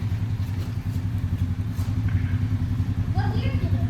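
A Honda vehicle runs in the snow, its engine giving a steady, close low drone throughout while voices speak over it near the end.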